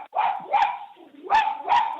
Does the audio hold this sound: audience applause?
no